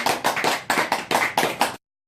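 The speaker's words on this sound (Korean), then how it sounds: "영광의 박수 올립니다." A short burst of rhythmic clapping after a church prayer, about eight sharp claps in a steady beat, fairly close, then abrupt silence.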